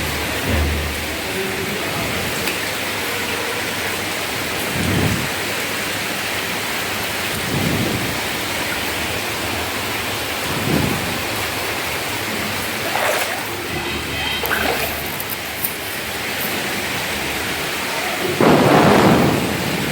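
Heavy monsoon downpour in Bangladesh, a dense steady roar of rain with a few deeper rumbling surges and a louder gust near the end, no voices.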